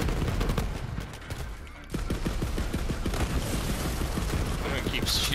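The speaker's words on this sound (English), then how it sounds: "gonna keep shooting out these little mines" A weapon shooting out small mines in the video game Borderlands 3 fires in rapid rhythmic bursts of sharp pops, dense and continuous after a brief lull, with a voice talking over it.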